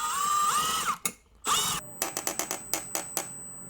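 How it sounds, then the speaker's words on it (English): A power drill runs in two sustained whirring bursts with rising and falling pitch, followed by a quick series of short, sharp trigger pulses while a desk setup is assembled, close and loud with no talk. "Okay, so I got the drill, and now it's time to assemble this."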